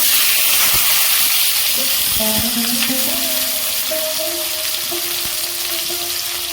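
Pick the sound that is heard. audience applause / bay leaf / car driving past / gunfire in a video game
bay leaf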